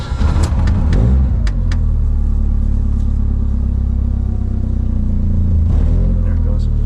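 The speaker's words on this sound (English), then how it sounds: "this is the first crank over now" An engine cranks and catches after a fuel leak repair, then settles into a loud, steady idle that runs close and continuous for several seconds, with a few sharp clicks near the start.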